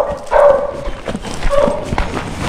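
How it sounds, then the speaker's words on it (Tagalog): Several dogs bark and yip at a house in Mapandan, Tarlac, two or three loud close barks with short whimpering yips between them. "Ayan, mga aso pala."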